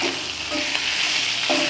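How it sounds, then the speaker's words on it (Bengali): Fish heads sizzle steadily in a hot pan while being knocked and broken apart with a utensil, for a Bengali-style fish-head dal; a continuous close frying hiss carries a few sharper tapping knocks. "ভালো করে ঠুকে ঠুকে মাছের মাথাটা ভেঙে দেওয়া হচ্ছে"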